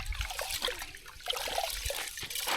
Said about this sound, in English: we're gonna be pouring this water inside the pot and washing the rice